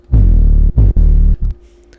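Deep, thick two-layer Serum synth bass notes played three times in a short rhythmic pattern, loud and booming with a buzzy upper layer, then silence.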